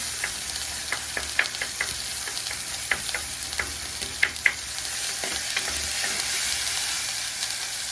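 Tomatoes being stirred and crushed in a frying Sri Lankan spicy prawn curry in a clay pot, a constant close sizzle with sharp tapping and scraping spoon strokes at irregular intervals, no talking.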